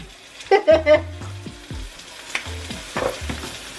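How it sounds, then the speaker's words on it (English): Bok choy greens with kimchi seasoning are stirred in a hot pan, giving a loud sizzling fry and scraping stir strokes in short bursts close to the mic. "And we just gonna stir it on in."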